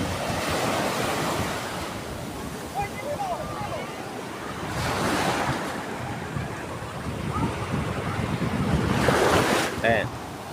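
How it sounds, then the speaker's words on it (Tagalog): Rough surf during a typhoon at a beach, waves rolling in and breaking in repeated surges over constant wind rumble, with faint distant voices of people swimming. "May bagyo kasi kaya maalon ang tubig dito."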